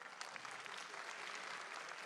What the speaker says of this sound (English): Please clap if you agree with me, lecturers.